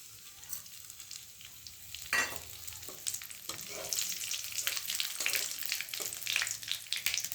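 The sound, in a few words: spices tempering in hot frying oil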